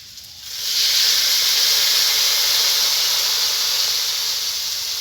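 Coconut rinse water poured into a hot pan, a sudden loud steam hiss that bursts in after a quiet half-second and holds as a strong, even roar to the end, close and alone.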